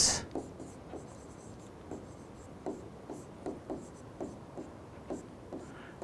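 Pen scratching out a handwritten answer on paper, steady faint strokes with regular soft taps of the tip, close and quiet, no voices.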